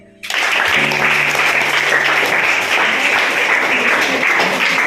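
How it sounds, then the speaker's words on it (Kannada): Students in a classroom quiz break into sudden loud group clapping that starts abruptly and continues steadily at full strength to the end. "ಚಪ್ಪಾಳೆ."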